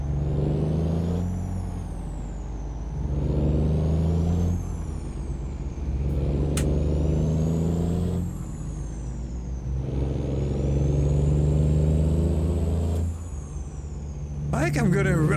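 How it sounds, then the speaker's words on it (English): Engines of cars and trucks in American Truck Simulator rumble and rise in repeated swells, with a hiss like an air brake near the end, all under continuous talk. "But I like that the cars have different sounds."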